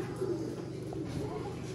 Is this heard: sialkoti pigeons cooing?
yes